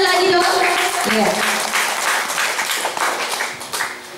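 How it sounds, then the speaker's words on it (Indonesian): A crowd claps at a fourth-anniversary award ceremony, a loud, full round of applause that slowly thins out, with a voice and some music-like tones heard over it. "Oke, kita beri tepuk tangan sekali lagi dong."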